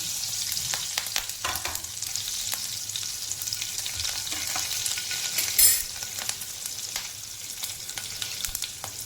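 One large chopped onion sautés steadily in a pan with cumin, asafoetida and slit green chillies, a constant close sizzle with occasional stirring scrapes and no talking.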